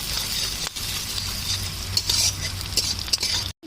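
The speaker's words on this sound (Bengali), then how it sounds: "পেঁয়াজটা ভালো করে লাল লাল করে একটু ভেজে নেব" Onions and bay leaf frying in hot oil in a kadai, a soft close sizzle broken by light metallic clinks and scrapes of a stirring spatula.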